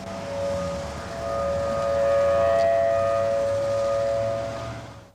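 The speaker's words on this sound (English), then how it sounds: "Sirens blasted, warning residents to turn to emergency broadcast channels" A civil defense tornado warning siren in Albuquerque, 1985, wails in a long, sustained tone that swells and fades slightly, sounding distant and carrying across open air.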